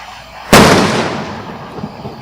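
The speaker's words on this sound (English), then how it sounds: "These people are shooting off fireworks right behind me." Fireworks set off nearby on the Fourth of July give one sharp, loud bang followed by a long crackling, rumbling decay, with a few fainter pops trailing after it and no voices.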